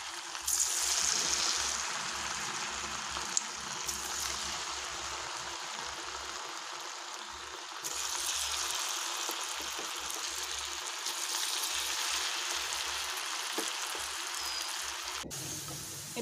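Potato pieces frying briskly in hot oil give a steady hiss and crackle that runs continuously, close and even, with a slight swell midway.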